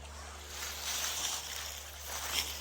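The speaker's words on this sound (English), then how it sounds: "Flowing water, huh? Amazing. It sounds so nice too." Steady, broadband rushing of flowing creek water, continuous and fairly near, with a faint low hum underneath.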